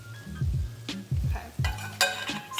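Rice cooking in a pot with dashi, stirred with a spoon in repeated scraping strokes that come about every half second, with a soft sizzle and a clink against the pot near the end.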